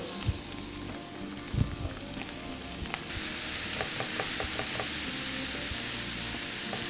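Beef frying in butter and oil in a pan, a steady close sizzle with a few scraping stirs early on, then a louder, denser hiss as the meat cooks, with no talk.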